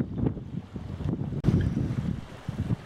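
Strong wind buffets the microphone outdoors while a paper kite flies, a loud, continuous rumbling roar with gusty swells and a sharp thump partway through.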